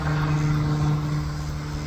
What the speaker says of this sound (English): the planes flying overhead